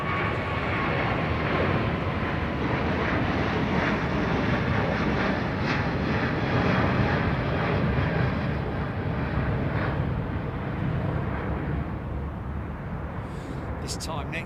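Japan Airlines jet airliner climbing out from Heathrow on departure, a broad steady engine roar sustained throughout, with voices talking over it.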